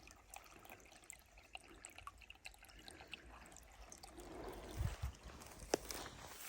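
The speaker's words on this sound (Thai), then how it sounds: "อันนี้ก็จะเป็นน้ำไหล" Water flowing through a forest on a walk, a quiet continuous trickle with a few brief low knocks and a sharp click near the end, no talking.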